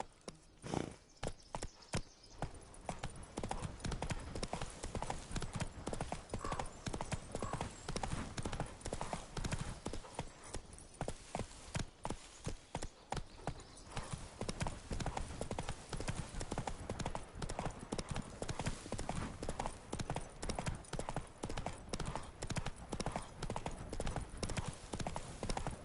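In The Witcher 3 video game, a horse's hooves clip-clop in a fast, continuous galloping rhythm, close and steady for the whole stretch, with a few faint snorts mixed in.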